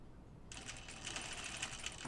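A domestic sewing machine stitches a dress ruffle, starting abruptly after a quiet half second and then running in a steady, fairly quiet rapid whirr with a faint rhythmic patter until the end.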